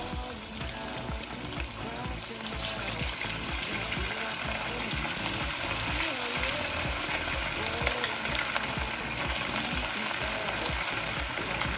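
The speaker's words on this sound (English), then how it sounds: "So I'm just gonna go ahead and add my pork one by one" Pork pieces frying in hot oil give a dense, continuous sizzle and crackle that holds steady for the whole span, close and fairly loud, with no talk over it.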